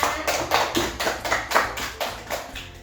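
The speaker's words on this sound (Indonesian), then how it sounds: "Beri tepuk tangan anak-anak" A class of fifth-grade children applauds together in a classroom, about ten quick, fairly even bursts of hand claps over a few seconds, close and lively.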